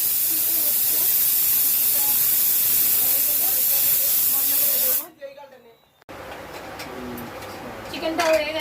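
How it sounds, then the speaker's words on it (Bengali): A pressure cooker of chicken on a high gas flame lets off a loud, continuous hiss of escaping steam for about five seconds, then cuts off abruptly, leaving quieter kitchen sounds behind. "কুকারে ঢাকুনটা লাগিয়ে দিয়েছি, গ্যাস তেজে দিয়েছি, সিটি উঠবে"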